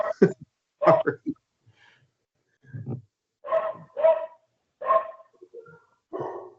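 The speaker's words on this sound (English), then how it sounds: "Now my dog's barking." Dog barking in the background during a strategic planning committee meeting, several short bursts of barks at moderate distance, separated by brief pauses, with no talk over them.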